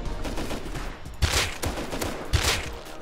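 Bursts of rifle fire in the online survival game Rust, a few sharp shots standing out over a dense rumble of continuous firing, fairly loud, with no talking.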